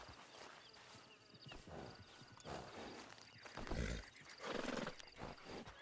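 Horse in the Western game Red Dead, moving with soft, uneven hoof clatter and snorting against a busy ambient background, moderately close and steady throughout.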